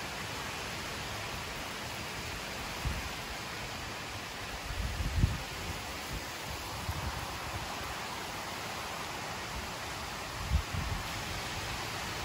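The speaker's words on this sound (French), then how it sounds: "Ah, c'est incroyable les rafales de vent." Steady, broad rushing noise of strong wind during a June thunderstorm in Amboise, France, with occasional heavier gusts buffeting the microphone in low thumps; no talking.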